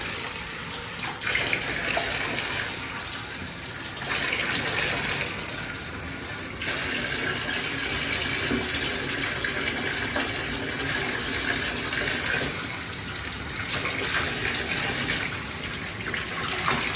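Warm water gushes from a tap into a tub being filled for a bath for a Sulcata tortoise, a steady, loud, close rush of water that changes character slightly a few times.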